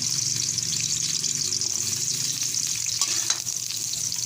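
Carrots fry in a pan for a pork and vegetable dish, giving a loud, even sizzle that runs without a break, with a few light stirring knocks toward the end.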